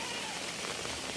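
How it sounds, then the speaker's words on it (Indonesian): Steady rain falling outdoors in wet weather, a dense even patter close by with no voices. "ini cuaca hujan terus"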